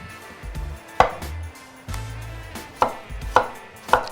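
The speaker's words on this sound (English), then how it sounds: "This is a washed cucumber and I'm gonna julienne it" Knife cutting a washed, unpeeled green cucumber into thin julienne strips on a board: several sharp separate chops spaced irregularly, with low knocks and rustle between, close and without speech.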